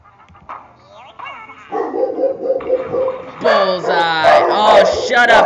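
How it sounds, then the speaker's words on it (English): Dogs bark and yip in the background, several overlapping barks and whimpers building louder over the final seconds, with a voice talking throughout. "Sorry for the barking in the background."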